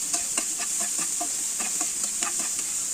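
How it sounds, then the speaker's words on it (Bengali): Onion, garlic, chili and small shrimp fry in hot oil, a steady close sizzle with regular spatula scrapes and stirring taps across the pan and no voices. "এখন আমি সব কিছুকে ভালো মতো করে তেলের মধ্যে একটু ভেজে নিচ্ছি।"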